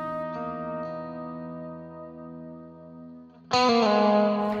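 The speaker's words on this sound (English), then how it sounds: "This is an update to Neunaber's fan favorite, the WET reverb." Guitar run through a Neunaber WET reverb pedal, Element series: a held chord slowly decays in a long reverb tail, then a bright new strum cuts in loud and close near the end.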